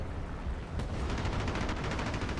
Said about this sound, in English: But I'm seeing gunfire coming up on that side